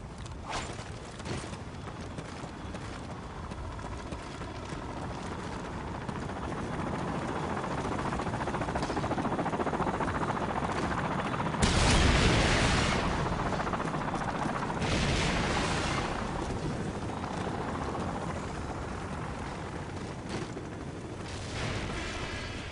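A Pave Low helicopter killstreak in Modern Warfare 3 on the Wii attacks with sustained heavy gunfire, rumbling blasts and a loud explosion midway, dense and continuous throughout.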